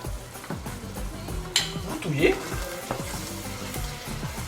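Stuffing seasoned with curry, turmeric and ginger sizzles steadily in a frying pan, a close, continuous crackle with occasional scrapes and knocks of a utensil against the pan.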